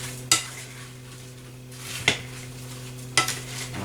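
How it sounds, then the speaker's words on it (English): A spoon stirring a bread salad in a pan gives three distinct scraping clinks, spaced about a second or more apart, over a low steady hum and soft background hiss, and no one speaks. "So then I'm just going to give this a stir"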